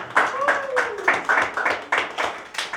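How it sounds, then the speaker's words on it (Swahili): A church congregation at a Sunday service claps in a rhythmic beat, the sharp claps repeating at an even pace. A voice cries out briefly over the clapping. "Tupige makofi ya shangwe na vigelegele"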